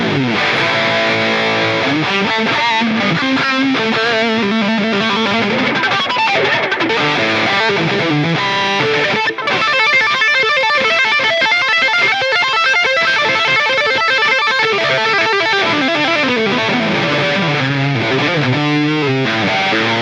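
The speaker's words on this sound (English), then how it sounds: "There's another distortion pedal which I'll get to, which is called the Swedish Chainsaw" Heavily distorted electric guitar through a Swedish Chainsaw distortion pedal on an HX Stomp plays dense, buzzing chords and riffs continuously, loud and saturated, with no voices.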